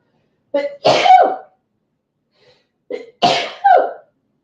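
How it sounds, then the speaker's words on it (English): A person sneezes twice, loud and close, each with a short sharp intake of breath followed by a forceful burst, about two seconds apart with silence between. "Uh-oh, I have to sneeze."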